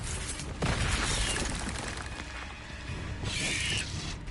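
A Confringo fire spell blasts in the Hogwarts Legacy video game, a loud crackling burst followed by a rumbling whoosh, with a second bright flare of energy near the end.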